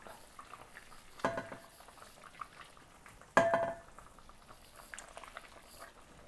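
Chicken and potato curry bubbling on high heat, a soft low simmer with two sharp clinks of a utensil against the pot, no talk.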